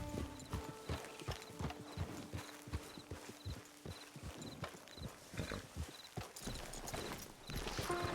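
Steady, rhythmic clip-clop of horse hooves walking in the video game Red Dead Online, continuous throughout, with a faint whinny and a light tinkling in the background.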